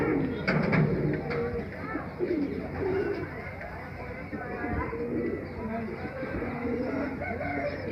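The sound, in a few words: pigeons cooing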